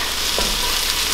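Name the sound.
chicken soup ingredients sizzling in a pot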